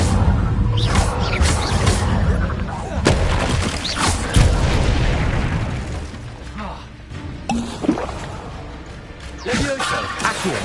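Repeated Incendio fire spell blasts in a Hogwarts video game, a dense string of loud booming bursts and crackling impacts that pile up continuously with short flares, dense and close throughout.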